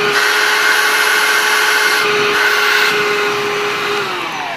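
A cordless i-vac X10 stick vacuum cleaner runs close by with a loud, steady whine and high motor tone, winding down slightly at the end.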